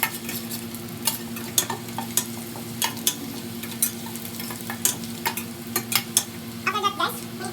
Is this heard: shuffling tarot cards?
no